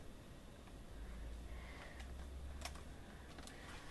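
Soft, quick computer keyboard typing taps in a quiet room, a few sharper clicks standing out over a steady background hiss.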